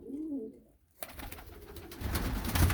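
A pigeon or dove gives a short, soft coo up close, followed by a louder stretch of clattering, rustling noise.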